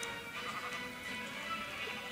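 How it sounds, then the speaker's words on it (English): Sheep bleating in Minecraft over a steady bed of game ambience, with a short, mid-loud bleat rising briefly out of the continuous background. "And the sheep's running about all over the place."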